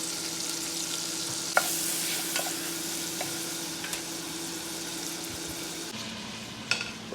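A whole pack of bacon cooks on high heat in a pot for one-pot pasta, giving a soft continuous sizzle with a few scattered clinks and scrapes and a faint steady hum behind.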